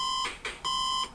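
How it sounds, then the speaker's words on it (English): Two loud, steady electronic beep tones from the 1942 video game on MSX2, each holding for well over a half-second and separated by a short burst of noisier game sound, with no talking. "to not do something about that stupid beeping noise?"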